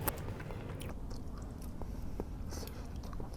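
Close, wet chewing and biting on homemade rice cake soup with chestnuts, soft crunches and squishy mouth sounds repeating steadily over a low background hum, no talking.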